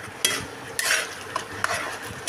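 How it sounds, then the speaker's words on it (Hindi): Onions and masala paste fry in a pan while being stirred: a constant sizzle with repeated spoon scrapes and clinks against the metal. "फ्राई करते रहेंगे"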